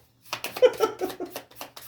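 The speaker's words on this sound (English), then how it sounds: "It's funny when the cards don't come out when you shuffle." Tarot cards riffle and slap together in quick bursts as a deck is shuffled close by. The rustling comes alone, with no voices.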